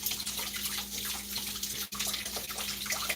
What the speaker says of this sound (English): let me wash this first because I didn't wash it yet,